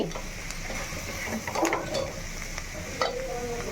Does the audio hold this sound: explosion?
no